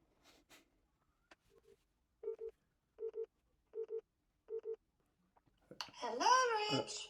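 Mobile phone dialing a call to a landline: four evenly spaced pairs of short dialing tones, clear and close, followed by a loud warbling ringback or connection sound at the end, with faint breathy noises early on.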